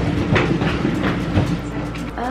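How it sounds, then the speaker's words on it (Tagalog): A train passes close by on the rails, a loud, continuous rumble with a rhythmic clickety-clack of wheels over the track joints. "Tren!"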